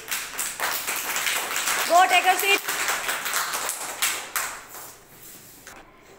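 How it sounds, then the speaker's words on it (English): Children clapping in a classroom, a short burst of claps with an adult voice speaking over them. "Very good. Clapping."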